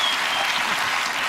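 Studio audience applause on a comedy panel show, a dense, loud wash of clapping filling the whole short stretch without a break.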